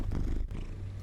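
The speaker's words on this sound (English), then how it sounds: "He is purring so loud right now." A cat purrs loudly and continuously up close, a steady low rumbling drone with no voices over it.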